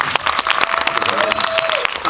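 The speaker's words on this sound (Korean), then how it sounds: "지금까지 이 자리에 함께 해주신 또 감독님과 배우님 또 우리 전수희 음악 감독님에도 큰 박수로" A cinema audience at a special guest-visit screening of the Korean film Hidden Face, in a Lotte Cinema World Tower auditorium, applauds warmly with close, dense clapping throughout, over a faint tone and brief voices.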